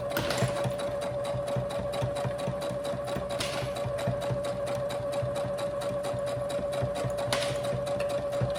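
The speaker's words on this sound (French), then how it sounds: "je fais ça et je tourne. Et je continue ma couture." A sewing machine stitches fabric for a baby's burp shoulder cloth, with a steady close whirring hum and a fast, even stitching rhythm running throughout, no voices.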